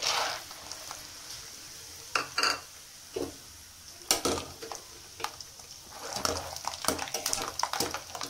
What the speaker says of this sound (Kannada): ಸಿಡಿಯುತ್ತೆ ಕಡಲೆ ಬೀಜ